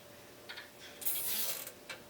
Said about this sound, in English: Just going to zip tie the vacuum line